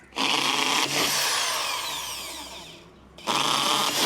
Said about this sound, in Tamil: நான் ட்ரில்லு போடுறேன்.